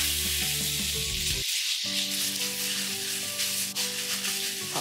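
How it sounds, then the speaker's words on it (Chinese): Half a jin of minced pork is stir-fried with a spatula after diced shiitake mushrooms, giving a loud continuous sizzle. A brief lull comes as the meat is pushed around, with steady crackling throughout. "然后再加入半斤的绞肉，用铲子把绞肉铲松，"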